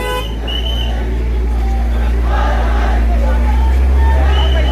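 A car horn toots as the vehicle creeps through a dense protest crowd. The honks ride over a constant engine rumble and a loud hubbub of voices close around the car.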